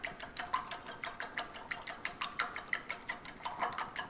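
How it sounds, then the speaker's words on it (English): A wire whisk beats eggs in a bowl for a pecan pie filling, a fast, regular rhythm of light metallic clicks and swishes repeating steadily and close by. "I'm using a wire whisk here."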